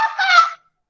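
A voice imitates a rooster crowing in one short, bright call lasting about half a second, followed by silence.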